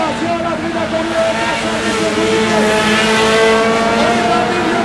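4-cylinder race cars running in a tight pack during a 50-lap race at St-Marcel, Quebec, their engines a loud, continuous roar that swells slightly as they pass close.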